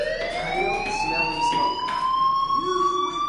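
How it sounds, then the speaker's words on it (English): A school fire alarm in the game Life is Strange sounds continuously as a loud, steady electronic tone that slides slowly upward in pitch throughout, with no talk over it. "do you hear that fire alarm?"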